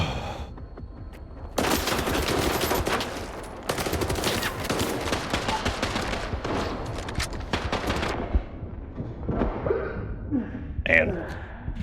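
Bursts of automatic gunfire in the S.T.A.L.K.E.R. 2: Heart of Chornobyl video game, with dense sustained volleys and short pauses, loud and close, dropping to scattered shots near the end, with occasional voice sounds mixed in.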